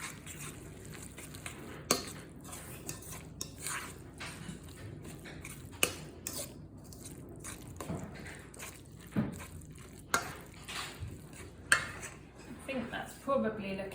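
Cabbage pancake batter being mixed in a bowl, with irregular scraping and clinking of a utensil against the bowl repeating throughout, close and moderately loud, while a person talks over it.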